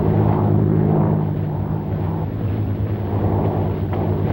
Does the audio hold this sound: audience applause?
no